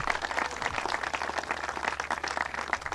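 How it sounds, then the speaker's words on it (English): A crowd applauds at the Oyster Bay Harbor Cleanup event with dense, steady clapping for a few seconds, moderately loud and continuous without pauses. "let's give a big round of applause to Supervisor Venditto"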